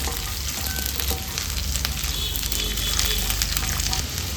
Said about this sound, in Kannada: ಗೋರಿಕಾಯಿ ಚೆನ್ನಾಗಿ ಫ್ರೈ ಆಗಿದೆ ತುಪ್ಪದಲ್ಲಿ